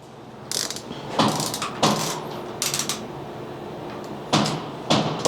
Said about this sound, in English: We're actually going to go ahead and then clamp this to 65 foot-pounds.